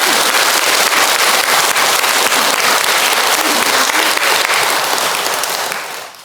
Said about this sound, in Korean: 참으로 여러분들이 오늘 박수를 한번 치야 되겠다.